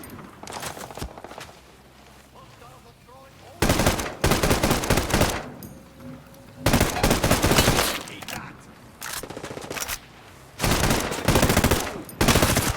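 Automatic rifle emptying a full magazine in Ghost Recon Breakpoint, loud close bursts of rapid fire in several separate strings broken by quieter pauses with faint movement sounds and occasional talk.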